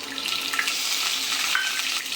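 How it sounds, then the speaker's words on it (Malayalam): Mustard seeds crackle and splutter in hot oil in a pan, a dense continuous sizzle with scattered small pops, close and fairly loud, no one talking. "നമുക്ക് കടുകിട്ട് കൊടുക്കട്ടെ."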